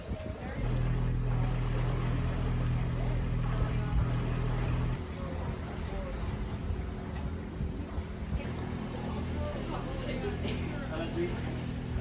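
A boat motors along a river, its engine a steady low drone with wind and water wash around it, louder at first then slightly settling, continuing throughout.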